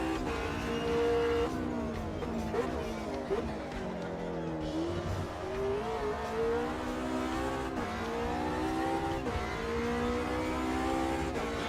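Race car engine revving in the video game Automobilista 2, a continuous rising and falling engine note with shifting pitch under a person talking throughout.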